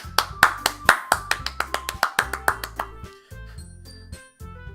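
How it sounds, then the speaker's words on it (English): Applause sound effect in the Doki Doki Literature Club visual novel: a short run of about a dozen crisp, evenly spaced claps over a soft musical backing, then quieter tones as the clapping stops. "The four of us applaud."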